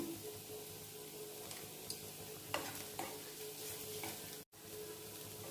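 Bitter gourd fry is being stirred in a pan, with a steady soft sizzle of frying under occasional scraping strokes of the spatula and a brief drop to silence near the end.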